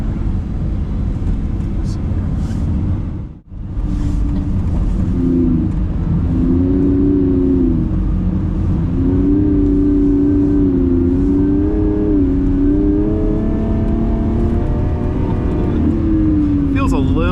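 A Lamborghini driven on ice at Esperienza Neve with the throttle pressed: a loud, close engine drone runs steadily, its pitch rising and wavering, with one brief dip near the start and a voice now and then over it.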